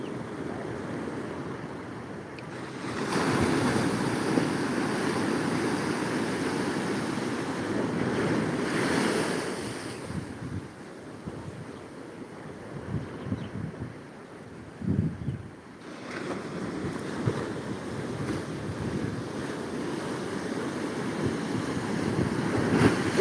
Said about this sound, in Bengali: পুরা মারাত্মক লেভেলের ঢেউ